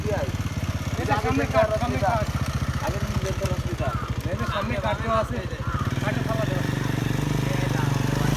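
Motorcycle engines idle and rumble steadily nearby at a rural gathering spot where people come for fresh date palm juice, with people talking loudly over the engine throughout.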